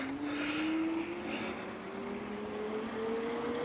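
Steady electric whine of a Well Toronto e-bike motor pulling away, a thin tone that slowly climbs in pitch as it gains speed, heard close over continuous road and wind rush.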